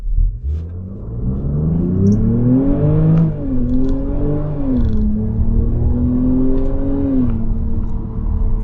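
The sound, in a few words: SUV accelerating from standstill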